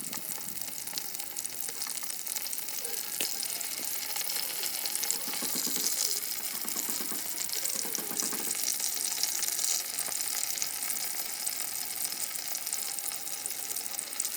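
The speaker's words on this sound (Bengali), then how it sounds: "মাংসটা আমার ভাজা হয়ে গেছে" Pieces of chicken meat fry in hot oil in a home kitchen, a steady close crackling sizzle with brief bursts of stirring in the middle, no talking.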